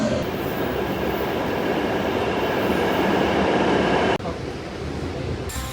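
A metro train rolls along the rails with a loud, continuous rumble and wheel noise, cutting off abruptly near the end before a quieter tail of station ambience.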